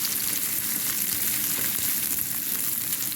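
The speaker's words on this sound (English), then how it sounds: "I just added some garlic. It's gonna saute until they are soft." Garlic sautéing in a pan for a quick chicken Alfredo, giving a steady, close, even sizzle that holds without a break for about three seconds, with no talk over it.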